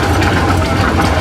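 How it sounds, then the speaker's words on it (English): A Minneapolis steam traction engine rumbles steadily at a show, its low, dense mechanical churning loud and close throughout the short stretch. "Got a Minneapolis steamer here"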